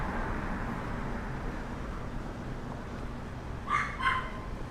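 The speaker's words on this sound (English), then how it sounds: "Sounds like there's a dog in there somewhere." A dog barks twice, distant and faint, somewhere in a Miami North Beach neighborhood on a Saturday night, over a constant low hum of outdoor ambience.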